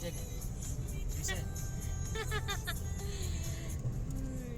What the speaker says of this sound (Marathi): रात्रीची गाडी चालवण्यात मज्जाच आहे ना बाबा वेगळी